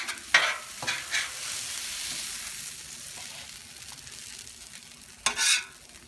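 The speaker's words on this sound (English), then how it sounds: "Let's go ahead and stir this up." Cup noodles stir fry is stirred on a Blackstone griddle: a few sharp spatula scrapes and clanks over a soft, continuous sizzle, with a louder scrape near the end.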